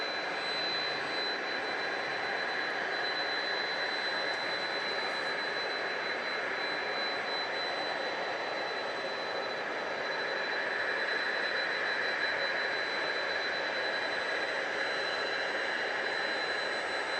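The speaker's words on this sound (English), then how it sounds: "there's a plane you can hear in the background" A UPS Boeing 767 jet roars steadily at night at DFW Airport, a continuous broadband engine rumble holding at an even level throughout with no voices.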